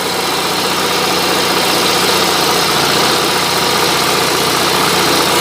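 An Onan propane generator engine runs steadily under about 3,000 watts of electrical load, giving a loud, even drone close by that holds unchanged throughout, with no talking.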